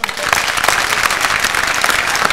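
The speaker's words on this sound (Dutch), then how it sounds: "Mogen we een hartelijk applaus voor Jan-Anthony Bruin." An audience applauds the new chair of the Dutch Senate, Jan-Anthony Bruin, at a political comedy show: steady, dense clapping from a large crowd, loud and continuous, with some crowd noise mixed in.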